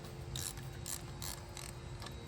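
Ratchet wrench turning a 5/8 spark plug socket on extensions to remove spark plugs from a 2007–2011 Chevrolet Aveo engine, giving about five short bursts of close, bright clicking with steady mechanical background.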